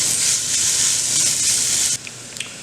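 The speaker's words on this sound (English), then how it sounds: "So now we're gonna go ahead and start cooking our bacon." Bacon frying until crispy in a pan, a steady loud sizzle with a bright hiss that drops away abruptly near the end, followed by faint clicks.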